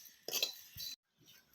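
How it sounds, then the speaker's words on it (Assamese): Roasted sesame seeds tipped into a mixer jar make a short, close rattle and clink against the container, in two quick pours with a brief pause between. "এয়া তিলখিনি দি দিয়া হ'ল মিক্সিত"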